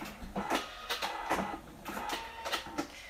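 A Cricut Maker cutting felt: a series of rhythmic, printer-like mechanical whirs and clicks in short bursts, fairly close and steady, with no talking.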